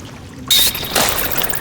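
Water being drunk by a character in the survival video game Sons of the Forest, a sudden splashing pour that starts abruptly and lasts about a second, followed by a second trickling burst, fairly loud and alone.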